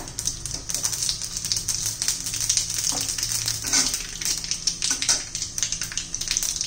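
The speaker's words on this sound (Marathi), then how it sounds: "आता आपलं तेल गरम झालेलं आहे, त्यामध्ये मोहरी घालू, जिरं घालूया" Mustard seeds and cumin sizzle in hot oil, a steady bright hiss dotted with rapid little pops and crackles as the seeds spatter, heard close and continuous.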